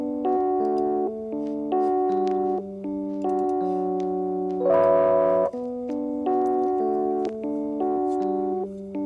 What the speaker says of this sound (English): And then I'll just play it in with the drums that I've just started to create here